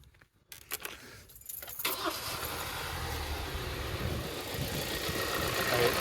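2016 Kia Sorento with a cylinder 4 misfire: keys jangle, the engine cranks and starts, then settles into a rough, uneven idle that runs loud and close to the end.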